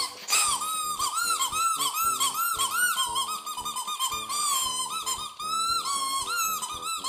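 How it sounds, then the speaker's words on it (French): A small harmonica from a survival evacuation kit plays a quick warbling run of reedy notes, close and steady for several seconds with no voices. "on a aussi la petite musique à bouche."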